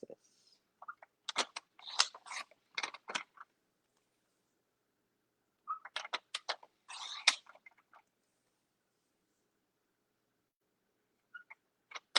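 Short bursts of rapid crisp snips and scrapes as half-inch strips are cut in two clusters, separated by silence, with a faint pair of clicks at the end.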